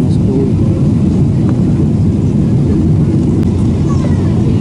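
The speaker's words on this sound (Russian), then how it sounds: "Самолет снижается." Inside an airliner descending toward Sheremetyevo airport in Moscow, a loud, steady low engine and cabin roar fills the whole stretch without a break.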